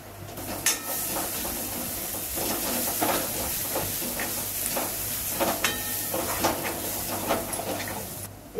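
Spices and onion sautéing in a pan over a low flame for a Waghre Vaal dish, giving a steady close hiss and sizzle with scattered small pops and crackles throughout.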